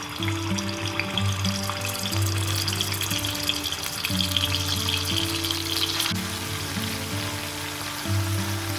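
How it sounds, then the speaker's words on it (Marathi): Ginger garlic paste hits hot oil in a wok (kadhai), giving a steady bright sizzle and crackle that stays loud and continuous throughout, with soft background tones beneath. "आता आपण याच्यामध्ये आपले अद्रक लसूण पेस्ट घालून घेऊया।"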